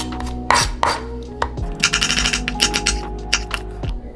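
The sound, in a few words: knife slicing onion thinly on a cutting board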